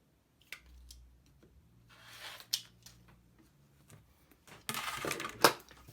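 Quilt fabric cut with a rotary cutter along a ruler on a mat, with scattered clicks and taps as the ruler is set, then a short, close scraping cutting stroke near the end, no talking.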